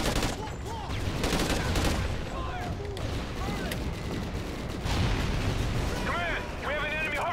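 Heavy gunfire and explosions roll through a beach battle in Call of Duty Ghosts, a loud, dense, unbroken barrage of shots and blasts, with voices talking over the din.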